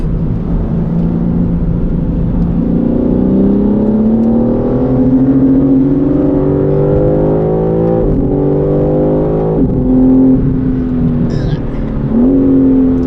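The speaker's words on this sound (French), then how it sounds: "Ah, c'est le freinage ça." A BMW M3 CS with 550 hp slowing under hard braking, heard loud and steady from inside the car, its engine note dropping and blipping through downshifts with a steady rumble underneath.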